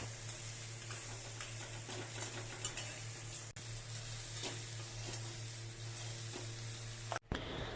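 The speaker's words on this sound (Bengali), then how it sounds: "কাঁকড়াটা আর দাঁড়াগুলো কিন্তু আলাদা আলাদাভাবেই ভেজে নিলাম" Crab pieces and crab claws fry in hot oil in a wok, a steady close sizzle with light stirring and utensil clatter running throughout, ending in a brief clank.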